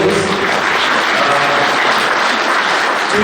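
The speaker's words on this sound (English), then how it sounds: "let's give a big round of applause" Loud, dense applause from an audience at a Gandhi Jayanti talk, steady and unbroken clapping filling the whole stretch.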